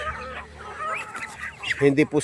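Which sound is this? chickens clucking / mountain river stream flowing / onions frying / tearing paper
chickens clucking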